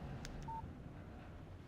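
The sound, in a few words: phone text message alert in video game Alan Wake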